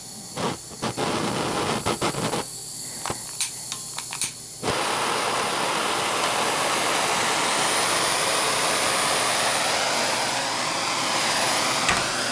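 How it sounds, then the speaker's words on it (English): A metal holder is heated for a thermal conductivity demonstration with a torch-like burner. Several short clicks and sputters lead into a steady, loud roaring hiss of flame that continues without talk. "I'm heating the metal holder."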